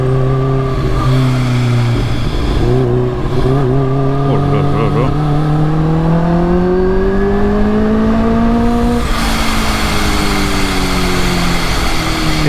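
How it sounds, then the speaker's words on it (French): A 280 hp Kawasaki H2 motorcycle with a fully tuned complete exhaust line revs hard and close, its loud engine note climbing steadily for several seconds before cutting back, while a man lets out a brief impressed exclamation. "des H2 avec une ligne complète préparée qui fait un bruit du tonnerre"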